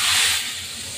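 A spice mix lands in a hot pan with a loud, steady sizzle that fades a little, heard close with no voices.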